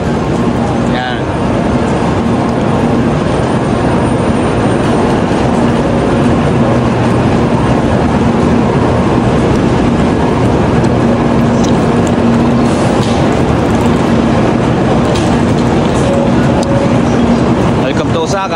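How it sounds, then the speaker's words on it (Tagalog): Japanese Shinkansen bullet train at Osaka station, a loud continuous rushing rumble with faint rail clatter under a steady roar throughout, voices mixed in. "Ito na yung bullet train na sinakyan natin."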